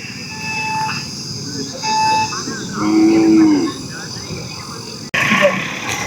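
Kangeyam cattle lowing amid a busy crowd at the Kannapuram cattle market, with a long deep moo standing out over steady background murmur and voices.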